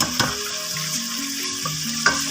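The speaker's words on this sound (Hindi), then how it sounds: "इसमें 1 चम्मच जीरा डाली है और ये प्याज हम इसमें डाल के ब्राउन करेंगे" Cumin seeds and onions frying in a pan while cooking a Kashmiri-style daal masala, a steady close sizzle with faint stirring clicks, no talk.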